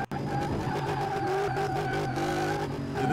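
A drift kart skidding in Car Mechanic Simulator 2018 on the Daytona speedway, with a sustained loud engine drone and tire squeal holding steady throughout after a brief dropout at the start.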